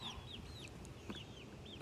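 A noisy chicken clucks repeatedly in quick, chirpy calls over steady farmyard background noise, with no talking.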